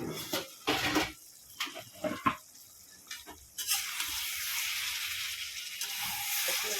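A lid comes off a pot of rice and mung dal cooking on the stove: a few light clanks and knocks, then a steady soft hiss and simmer.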